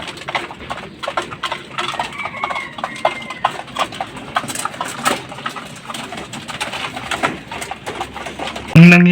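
Breeder pigeons being fed in their loft, with soft cooing and wing flutters, plus pecking and light tapping of grain at close range, and a voice speaking intermittently underneath.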